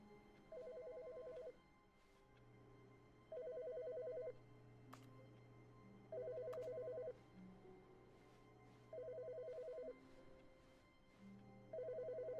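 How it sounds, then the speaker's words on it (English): A telephone rings in The Stanley Parable: an electronic ring tone repeats in evenly spaced bursts about every three seconds, five times, over a quiet low ambient hum, with no talking. "Wait, I hear a phone."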